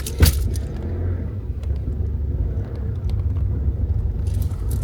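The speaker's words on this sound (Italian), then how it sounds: "stavo scaldando un po' la macchina" A heavily loaded car sits idling as its engine warms up before a long drive from Italy to Moscow, a steady low rumble holding throughout with a brief louder knock near the start.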